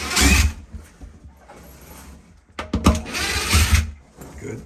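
A power driver whirs in two short bursts while backing 1 1/4 inch screws out of the panels of a CNC-cut cupola, with clicks and handling noise between them.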